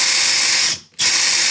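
A Makita LXT cordless drill runs at high speed with a loud, whining motor. It spins down briefly to near silence and then whirs back up to full speed.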